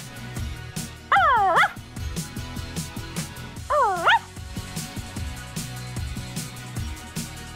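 A cartoon puppy in a Barbie and her sisters puppy rescue adventure gives two high, rising whimpering yips, each about half a second, over busy background music and sound effects.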